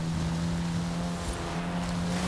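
A level 5 Ford Focus RS in a racing video game drives with a steady, continuous engine hum and road noise, loud and close throughout with no talking.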